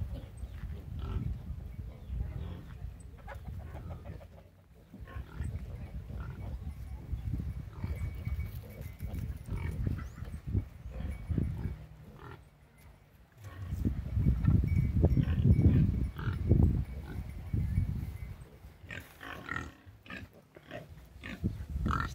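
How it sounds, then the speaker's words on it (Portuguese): Pigs in a farm pen grunting and snuffling nearby, with irregular bursts of rooting and shuffling that swell loudest midway, and no talk over them. "E aqui está a criação de porco."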